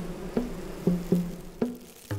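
Bees buzz close by in short bursts: several droning passes come and go in an irregular rhythm, with no talking.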